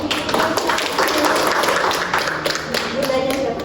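An audience applauding at an indoor parenting talk for parents and teachers: a steady patter of many hands clapping, fairly close, with voices mixed in.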